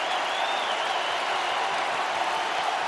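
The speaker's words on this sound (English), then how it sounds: "Crowd getting into it." Baseball stadium crowd at a Tampa Bay Rays at Chicago Cubs game cheering and clapping in a dense, steady roar with bases loaded, sustained at even loudness with no individual voices standing out.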